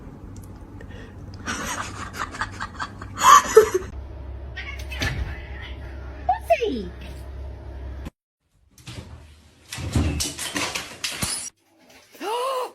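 A cat meows and caterwauls up close in short, loud bursts, with a person talking nearby and a few door-like knocks between the cries.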